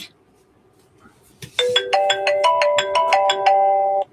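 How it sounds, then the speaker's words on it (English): Telephone ringing at a hobby livestream, a loud electronic ringtone of repeated bright chiming tones in a quick melodic pattern, sounding alone after a quiet start. "Phone call."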